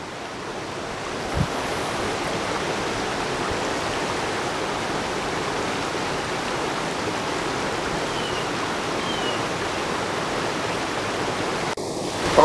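Steady, full-bodied roar of rushing water, continuous and broadband like a distant waterfall, with no voices and only a brief bump near the end.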